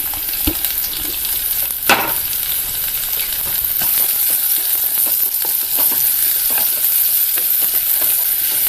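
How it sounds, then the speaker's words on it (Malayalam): Chopped onions and shallots frying in hot oil for a Kerala mackerel curry, a loud continuous sizzle with a few stirring scrapes and clinks of a utensil in the pan, no talking. "ചൂടായ എണ്ണയിലേക്ക് സവാള അരിഞ്ഞത് ചേർക്കാം"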